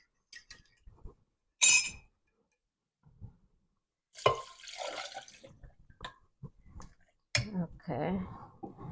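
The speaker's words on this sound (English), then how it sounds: "so I'm just going to add more water." Water is poured into palappam batter in a kitchen in a few short splashing bursts with faint clinks of a container, separated by quiet gaps, while a person talks in between.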